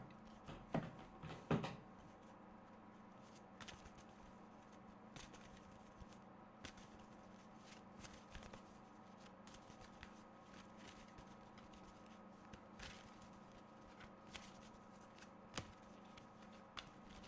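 Dragon Oracle cards shuffled by hand, a few crisp riffling snaps near the start, then soft, faint card handling over a steady low background hum.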